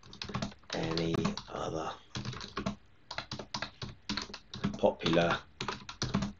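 Typing on a computer keyboard while editing docstrings in VS Code, with quick bursts of clicking keystrokes under a person talking close to the microphone.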